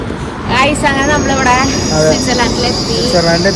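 A train rumbles and hums steadily at a railway station in Switzerland, with a faint high whine above it and people talking over the noise.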